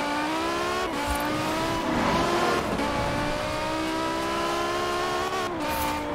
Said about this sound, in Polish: Tak brzmi ta V10.